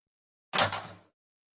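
A door opens with a short, sharp knock of wood and a brief rattling swish that quickly fades, a single close sound set against silence.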